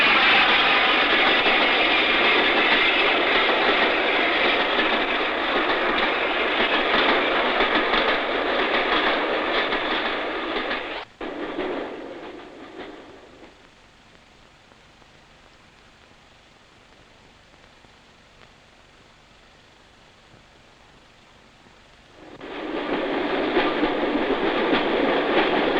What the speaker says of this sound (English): the modern diesel-hauled express thunders over the junction and begins the long